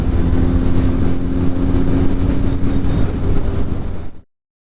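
A 2023 Kawasaki Z900 motorcycle fitted with a Mivv GP Pro aftermarket exhaust rumbles in a loud, steady, close drone for about four seconds, then cuts off abruptly into silence.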